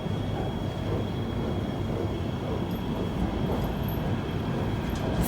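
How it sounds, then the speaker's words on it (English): An MTR K-train at Yau Tong Station in Hong Kong gives a steady, fairly loud rumble and rolling roar with faint high squeals, continuous and without talk. "Alright, K train."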